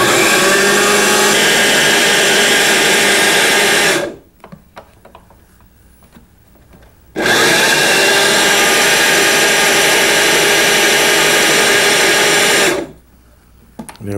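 A food processor whirs loudly and steadily while blending an Indian dish. It runs in two long bursts separated by a short quiet pause, then starts up again at the end.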